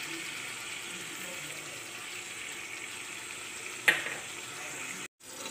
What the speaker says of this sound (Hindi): अब हम इस चिकन को अच्छी तरह से भूनेंगे